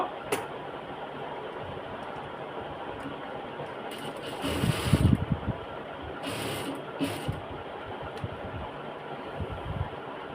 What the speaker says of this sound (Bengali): এখন এটাকে সেলাই করে দিব